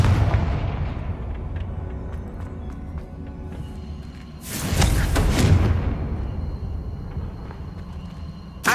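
In the Hogwarts Legacy video game, a Confringo spell lands as a sudden loud blast that swells and rumbles for about a second before fading back into the game's ambient background.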